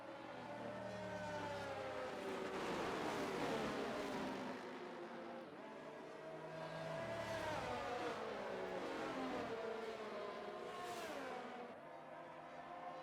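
Race cars from the F1 23 video game at Jeddah during a league race, engines whining and shifting pitch as cars run in a safety car queue, steady and loud throughout with no talk.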